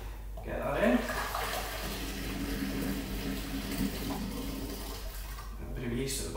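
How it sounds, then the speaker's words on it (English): Yeast starter pours into a mead brew being made for honey vinegar, a steady, continuous splashing of liquid heard up close for several seconds, easing off toward the end. "clearly we need to put our yeast starter in, which is hopefully still alive, so we'll get that in"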